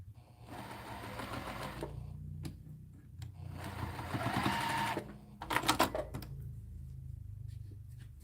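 A sewing machine pieces quilt pieces in short bursts, its steady whirring stitch run pausing briefly between passes, with a few clicks of handling in between.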